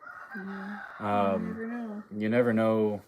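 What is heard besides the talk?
rooster crowing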